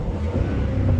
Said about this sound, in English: Car still revs fine.